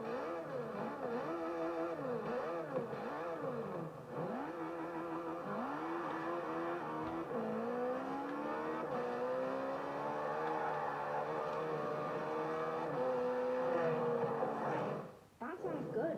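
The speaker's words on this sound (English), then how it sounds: "It sounds a bit like a rotor. Like an RX-7 or something." A car engine with a rotary-like character, compared to a Mazda RX-7, revs up and down repeatedly, its pitch sweeping in rising and falling cycles before settling into a sustained higher drone, loud and close throughout.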